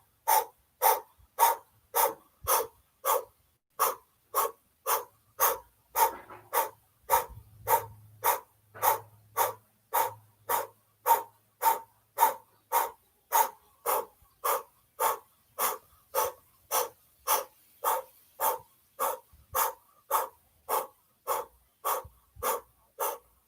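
Rhythmic forceful breathing during a Kundalini yoga exercise, around forty sharp regular breaths pumped in a fast steady rhythm, close and clear, with faint low sounds partway through.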